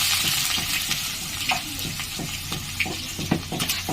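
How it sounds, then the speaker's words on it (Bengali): Chopped onions fry in hot oil in a kadai, giving a steady, close sizzle throughout with occasional stirring scrapes and no talking. "আমি কড়াইতে তেলটি গরম হয়ে গেছে। এবার এতে আমি দিয়ে দেবো পেঁয়াজ কুচি।"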